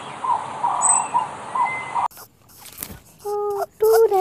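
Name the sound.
colorful parrot calling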